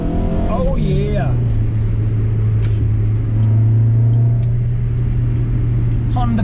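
A 1000-horsepower Honda Civic EK driving on a wet road, its engine a loud, steady low drone heard from inside the car, with a brief rise in pitch near the start.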